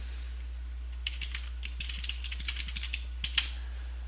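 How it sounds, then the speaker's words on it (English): A computer keyboard types out a short name: a sparse, crisp run of individual key taps, close and clear over a steady low hum, ending with one sharper press. "type in the name for my new post"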